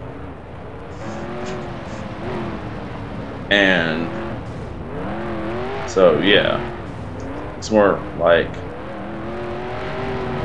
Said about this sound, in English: you see all the cars thunder by